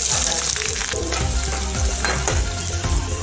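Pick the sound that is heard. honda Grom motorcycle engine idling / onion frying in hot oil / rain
onion frying in hot oil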